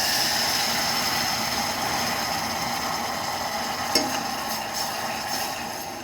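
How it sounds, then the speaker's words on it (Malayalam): Water poured into golden caramelized sugar in a pan for a carrot dates cake, a steady loud hissing sizzle filling the whole stretch with a brief clink partway through, close by. "ഞാൻ ഇതിലേക്ക് 1 കപ്പ് വെള്ളം ചേർക്കുന്നു"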